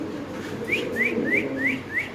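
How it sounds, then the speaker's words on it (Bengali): A pair of Spanish pigeons, with a faint series of about five short, evenly spaced rising whistle-like calls over a low background murmur. "এখানে আছে এক পেয়ার স্প্যানিশ কবুতর দেখতে পাচ্ছেন আপনারা"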